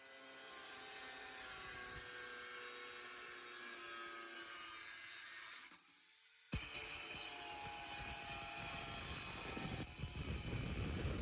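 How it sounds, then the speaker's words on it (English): A hand grinder cuts holes in a metal ammo box with a loud, continuous high-pitched whine and grinding rasp, briefly dropping out once before resuming with heavier scraping. "We are using a hand grinder to cut out the holes."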